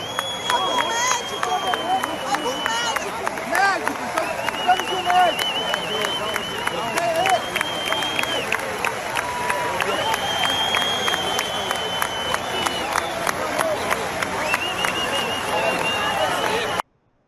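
A large crowd at a packed street rally on Avenida Paulista, with continuous dense clapping and cheering across the whole stretch and a loud, steady wash of hubbub beneath the applause.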